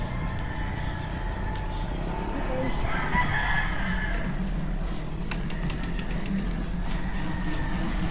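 Chickens cluck and a rooster crows on a farm near Pandin Lake, San Pablo City, Philippines, with steady outdoor background noise and a rhythmic chirping throughout.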